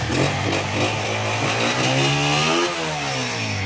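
Honda 125 motorcycle from a 2019 model idling up close, a steady loud single-cylinder thrum with a slight rev rise and fall partway through.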